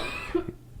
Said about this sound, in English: Oh, you're making me cough.